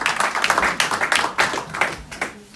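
An audience claps at an outdoor MLK parade and peace walk gathering, a fairly dense round of applause with uneven individual claps rising and fading over a couple of seconds, moderately loud with no talking over it.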